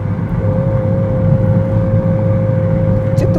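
A Honda Civic FK7 engine drones steadily and loudly during a missed gear change on tight mountain curves near Hakone, a constant low roar with a sustained whine and no clear shift.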